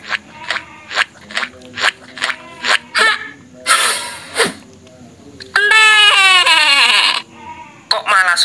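Goat-like bleating in a comedy skit, a string of short rhythmic bleats followed by a long, loud, wavering cry, close and prominent; the sounds may be a person imitating a goat.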